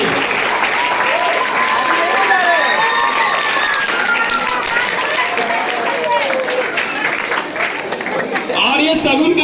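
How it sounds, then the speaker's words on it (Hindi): Loud applause from a crowd at a school event, a dense, steady wall of clapping that runs without a break, with cheering, chatter and scattered voices mixed in. "जोरदार ताली।"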